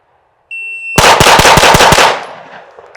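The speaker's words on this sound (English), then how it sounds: "Yeah, let's do Glock one more time." A Glock pistol fires a rapid string of about eight loud, close shots in under a second and a half, followed by a fading echo.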